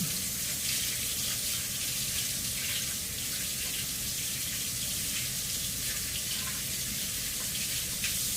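Tap water runs steadily into a kitchen sink as oily hands are rinsed, a continuous soft splashing hiss heard close by with no talking.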